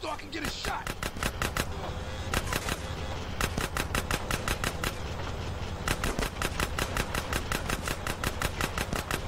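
Rapid automatic gunfire bursts in GTA San Andreas during a train chase mission, loud repeated volleys of machine-gun-like shots that keep firing almost without pause amid game engine noise.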